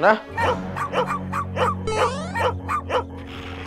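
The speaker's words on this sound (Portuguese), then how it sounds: "Tá parecendo mais latido de cachorro." A dog barks in a quick, steady run of about eight sharp yaps, close by, while someone speaks briefly.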